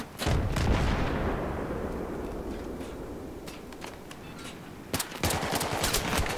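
Heavy gunfire and explosions in the video game Battlefield 3, Rush mode on Operation Firestorm, a big blast rolling off into a rumbling tail, then a fresh burst of close rapid shots near the end.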